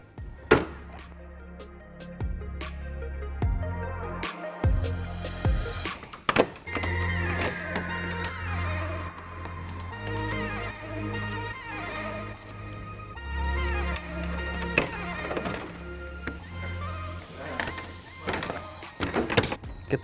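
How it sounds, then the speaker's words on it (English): Plastic trim clips pried out of the radiator panel on a 2013-2018 Dodge Ram with a flathead screwdriver or trim removal tool: a string of close clicks, snaps and thunks with scraping between them. "Grab a flathead screwdriver or a trim panel removal tool and remove the 6 clips that hold it in place."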